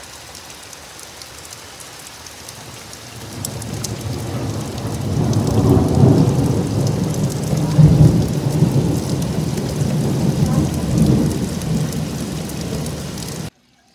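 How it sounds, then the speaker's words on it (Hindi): Heavy rain pours down steadily while thunder rumbles in long low rolls, swelling louder midway and continuing until an abrupt cutoff. "बारिश पहले से ज़्यादा तेज़ हो गई है।"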